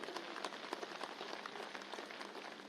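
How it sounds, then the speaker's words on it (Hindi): A large crowd applauds to welcome BJP national president J.P. Nadda at a felicitation event in Shimla, Himachal Pradesh: dense, steady clapping that stays faint and distant throughout. "हम एक बार जोरदार तालियां बजा करके उनका अभिनंदन करें।"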